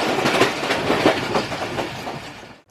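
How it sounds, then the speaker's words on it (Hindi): A Shalimar passenger train rolls into Khairpur station, a steady rumble with rhythmic clickety-clack of wheels over rail joints, fairly close and continuous before fading out at the end. "तकरीबन 1:45 बजे ट्रेन खैरपुर पहुंची"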